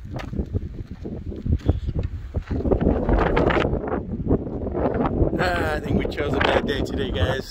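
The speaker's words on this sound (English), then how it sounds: "It's way too windy." Strong wind buffets the microphone outdoors in desert country, heavy gusty roaring that rises and falls throughout, with rustling and a voice speaking underneath.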